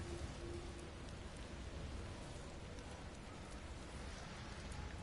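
A heavy in-game rainstorm in God of War Ragnarok sweeps through Alfheim's desert as a continuous, even wash of pouring rain with no break.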